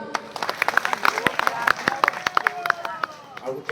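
Audience applause at a Rath Yatra festival event: a crowd claps in a brisk, uneven patter close by, with voices talking over the clapping for several seconds.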